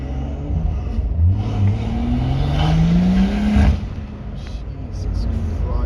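Stage 2 BMW M140i with around 460 bhp and a Quicksilver exhaust accelerating hard from inside the cabin, the engine note climbing steadily through a gear before a shift, loud and close, with a voice speaking briefly over it.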